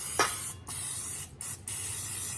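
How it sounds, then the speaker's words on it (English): Cooking spray is sprayed into a baking dish for an onion casserole: a close hiss starts the clip, breaks off briefly, then returns in two more sustained bursts with no talk. "Let me spray this just a little bit, just because."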